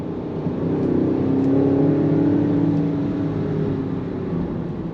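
A 2025 Range Rover Sport Autobiography with a twin-turbo engine accelerates smoothly from inside the cabin, its muffled engine note swelling steadily and then easing back, with no talking over it.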